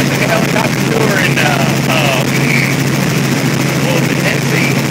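A steady, loud helicopter engine roar with a low rhythmic rotor thump fills a ride at a Warriors Weekend event, unbroken throughout, with faint muffled voices underneath.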